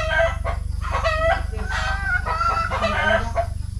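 Chickens cluck in bursts while a rooster crows nearby, loud and close, on a rural farm during a squash and string bean planting day; no one speaks.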